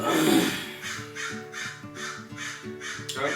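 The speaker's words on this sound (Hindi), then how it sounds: "কাক ডাকছে" A crow caws repeatedly in a steady rhythm, about six harsh calls in a row, fairly close and clear.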